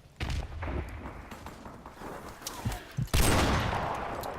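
Gunfire in a Call of Duty match: scattered shots and short bursts, then a louder, sustained crackling volley near the end, moderately close, with no talking.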